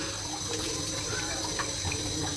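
Radish being washed under a running kitchen tap, a continuous steady gush of water with small splashes as it is rinsed.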